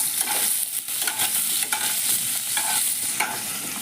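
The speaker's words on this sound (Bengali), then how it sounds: "তো আমি আলুটাকে একটু লাল লাল করে আগে ভেজে নিই।" Potato pieces with a little turmeric frying in hot oil in a pan, a steady bright sizzle broken by repeated scraping stirs, close and alone without voices.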